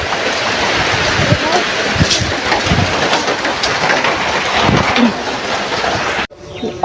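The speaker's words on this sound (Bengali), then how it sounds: "ভালো বৃষ্টি হচ্ছে" Steady heavy rain roars throughout, a dense wash of noise with occasional louder splashes, ending abruptly near the close.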